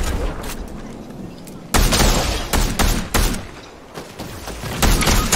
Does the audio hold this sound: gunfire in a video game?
yes